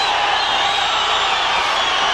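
Steady roar of an arena boxing crowd cheering at a fight between Johnny Tapia and Pedro Javier Torres, loud and continuous with whoops rising above the din.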